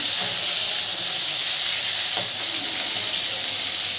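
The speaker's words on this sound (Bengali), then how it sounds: "চিংড়ি মাছগুলো আমরা ভাজে দেবো, তেলটা গরম হয়ে গেছে।" Prawns frying in hot oil make a loud, steady hissing sizzle from start to finish, with a faint clink partway through and no voices.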